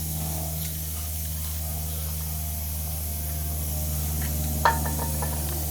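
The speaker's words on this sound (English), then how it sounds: "I'm gonna start by spraying some WD-40 on these fittings first." WD-40 sprayed onto the air fittings of a school bus air suspension leveling valve, a steady soft hiss running throughout, with one short sharp click near the end.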